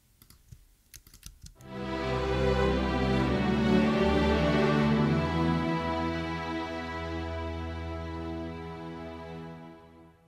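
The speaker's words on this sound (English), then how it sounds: "We're also adding all of our strings here. And I'll go ahead and solo these so that you can hear them all together." An orchestral string section, soloed in ComposerCloud for a fantasy theme, swells in after a moment of quiet and holds sustained, layered harmony at a steady moderate level before easing slightly toward the end, with no talking.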